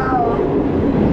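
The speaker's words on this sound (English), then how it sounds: "We're in the non-AC train." A loud, steady rumble of a moving non-AC Mumbai commuter train heard from inside a carriage, with a brief squeal of wheels at the start.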